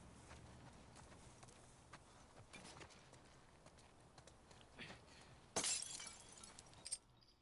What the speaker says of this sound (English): I can't get on the horse